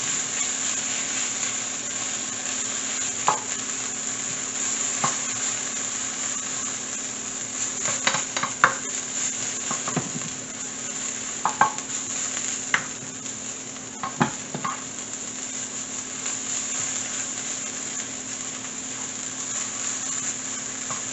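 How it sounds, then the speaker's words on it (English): Cassava bread mixture with ginger stirred in a pot, with soft scrapes and light clinks scattered over a steady close hiss. "Give this a good stir in here."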